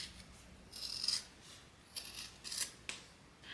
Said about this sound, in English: let's trim it down to about 1/8 of an inch seam allowance